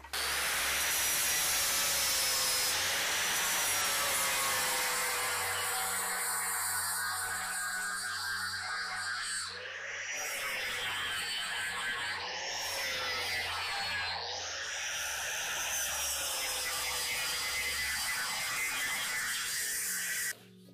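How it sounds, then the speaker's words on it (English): An angle grinder smooths down welds on a rusted-out rear window corner of a car, a loud continuous abrasive whine with shifting pitch and brief dips, running for about twenty seconds. "Now I'm just going to take the grinder, clean everything up, make it look nice."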